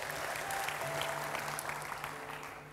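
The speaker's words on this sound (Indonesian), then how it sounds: "Kasih tepuk tangan sekali lagi buat Tuhan Yesus." Church congregation applauding at a Sunday service, a steady wash of clapping with a low hum underneath, fading slightly toward the end.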